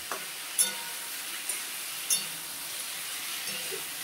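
Mixed vegetables with bori (sun-dried lentil dumplings) being sautéed in a pan: a soft, steady sizzle with a few faint clicks of stirring, close by and without talk.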